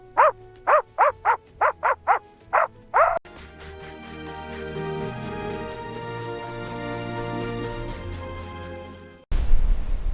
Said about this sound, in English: Suddenly, a barking dog startled him.